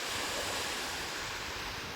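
Heavy surf pounding Manila Bay during Typhoon Aghon, a loud continuous roar of breaking waves mixed with gusting wind buffeting the microphone, with no pause.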